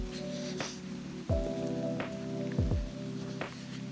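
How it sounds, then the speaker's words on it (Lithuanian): Warm rain patters steadily and close by on a walking trail near Vilnius, a dense hiss of drops on surfaces with occasional sharper taps, no voices. "Pradėjo stipriai visai lyt"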